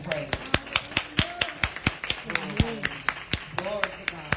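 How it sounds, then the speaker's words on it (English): Rhythmic hand clapping at a church worship service, steady and moderately close, mixed with voices singing or calling out over the beat. "give Jesus a hand clap and pray"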